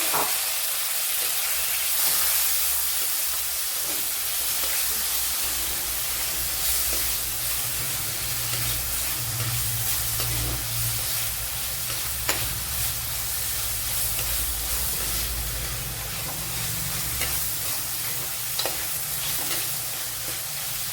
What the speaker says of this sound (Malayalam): ഇനി വലിയൊരു തക്കാളിപ്പഴം ഇട്ട് കൊടുക്കുക.